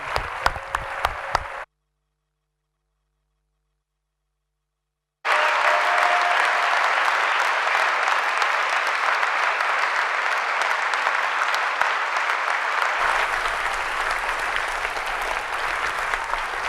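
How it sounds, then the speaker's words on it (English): A hall full of people at a winter graduation ceremony applauds the graduates in a long, dense wash of clapping, broken by a few seconds of total silence early on and then continuing steadily to the end. "So just one more round of applause for all our graduates today and all those who supported them."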